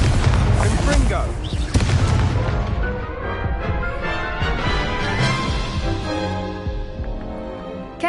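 A Confringo blasting spell erupts in Hogwarts Legacy with a loud, booming burst that rolls and crackles, then trails off over several seconds.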